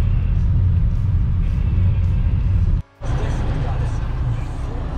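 Steady close engine rumble and road noise from a car driving along a country road in Latgale toward Rāzna Lake, with a brief dropout near the middle, and talk over it.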